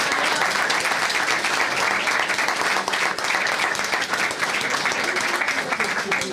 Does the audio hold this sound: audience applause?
yes